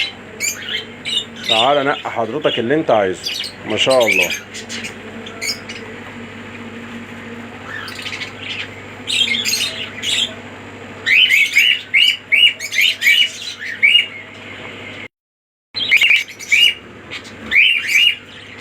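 A flock of caged Australian budgerigars in mixed colours chirps and squawks in busy bursts, while someone talks over the birds for much of the time. A brief silent gap falls near the end.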